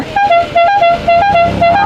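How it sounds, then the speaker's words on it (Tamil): A loud, close vehicle horn honking in a quick repeated rhythm, several short toots in a row with a two-tone pitch. "வண்டி ஹார்ன் வச்சோம்ல"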